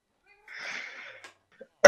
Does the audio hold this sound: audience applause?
no